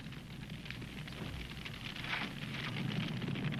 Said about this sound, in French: Mais et vous entendez ce crépitement?